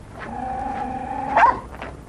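A dog barks outside at night, a few sharp barks and yips spread over a couple of seconds, moderately near over a faint steady background hum, with no voices.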